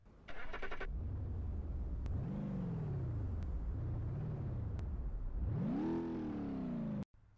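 A modded car in the BeamNG.Drive video game using a stock engine sound starts up and drives, its engine tone climbing and falling through several gear changes before a final hard rev that cuts off abruptly.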